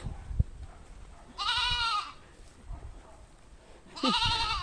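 Two loud goat bleats, one near the middle and another at the end, with quiet background noise between them.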